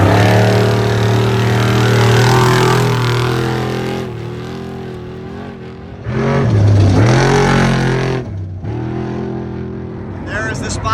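Off-road race trucks in the Vegas to Reno desert race rev loudly, the engines rising and falling in pitch as they pass close by, with a commentator talking over the noise.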